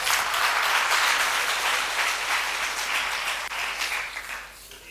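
Audience applause at a church gathering, dense and steady hand clapping from many people, loud at first and gradually thinning and fading toward the end.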